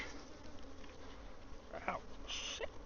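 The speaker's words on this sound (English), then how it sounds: "Ooh, bee stinging me." Bees buzz faintly around an open beehive during hive work on a colony with a laying worker, a thin steady drone with a few brief brighter whines near the end.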